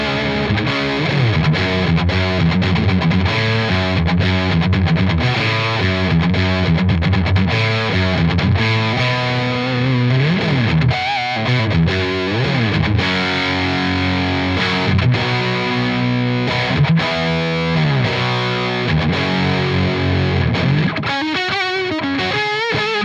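Electric guitar through a Magnatone SL-100 Slash signature amp head, set to moderate rather than high gain with the master at 5, loud but attenuated, plays continuous crunchy riffs, chords and bends for over twenty seconds, alone without talk.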